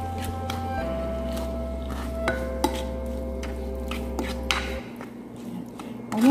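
Chicken sopas stirred in a pot: wet squishing and scraping with a few knocks of a utensil against the pot, over a steady low hum, fairly close and with no voices.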